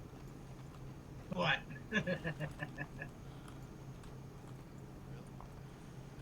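Horse hooves clip-clop in Red Dead, a short burst of evenly spaced steps at moderate distance, then quieter, under a steady hum with brief talk over it.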